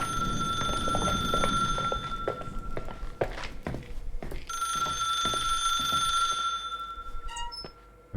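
An old telephone in The Suicide of Rachel Foster rings insistently, a bright metallic bell trilling in long bursts with a pause between, mixed with footsteps and thumps, before cutting off near the end.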